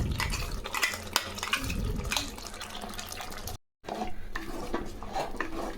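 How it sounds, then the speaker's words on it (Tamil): Ground masala sautéed in a pan for fish curry, close scraping and stirring with clinks of a utensil against metal over a low sizzle, with a brief gap of silence partway. "நல்லா எண்ணெய் பிரிஞ்சு வர வரையிலையும் இதை நல்லா நம்ம இந்த மசாலாவை வதக்கிடலாம்"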